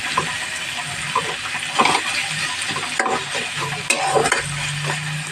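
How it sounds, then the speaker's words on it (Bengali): Onions sizzling in a pan while being stirred with a spoon, a steady frying hiss broken by repeated scraping and clinking strokes, close and fairly loud, no speech. "এগুলোকে ভালো করে নাড়াচাড়া করব। পেঁয়াজগুলো কিছুটা ভাজা ভাজা মতন হয়ে এসছে"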